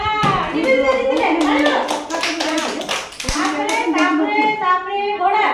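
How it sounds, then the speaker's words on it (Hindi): Children clap their hands together in a classroom activity, a quick run of sharp claps followed by another burst, mixed with kids' chatter and voices. "ताली मारो"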